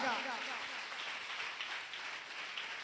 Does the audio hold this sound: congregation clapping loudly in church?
yes